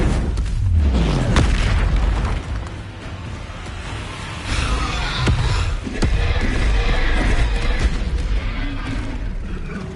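Repeated Confringo explosion spells cast in Hogwarts Legacy, several loud booming blasts with whooshes scattered across a dense, continuous battle din, no talking.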